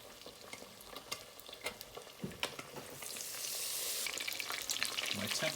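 Fish fillets frying in hot oil, a steady close sizzle and crackle that swells louder and denser toward the end, with a few scattered pops and stirring sounds and no talk.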